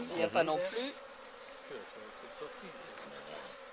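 Bees buzz steadily at an open beehive while a brood frame is being taken out, a soft continuous drone under a brief spoken phrase near the start.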